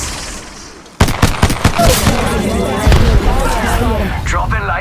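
Rapid, loud automatic weapon fire in Apex Legends Mobile, starting abruptly as a dense burst of close shots that rolls into sustained gunfire with echoing impacts, while game voice lines chatter over it.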